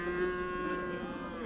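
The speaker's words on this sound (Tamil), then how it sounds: "சேலம் மாவட்டம் முத்துராயம்பட்டி மாட்டு சந்தைக்கு வந்திருக்கோம்" A single cow or bullock moos at a cattle market in Salem district, one sustained, fairly close low call lasting about a second and a half.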